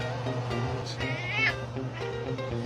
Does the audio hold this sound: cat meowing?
yes